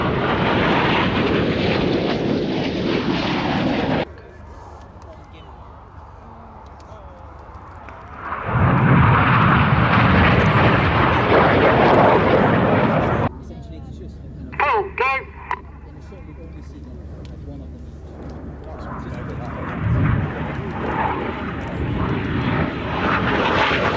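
Red Arrows display jets flying the Rollbox manoeuvre at the Cosford airshow: loud jet roars sweep past in several passes, separated by quieter gaps where a commentator talks over the public address.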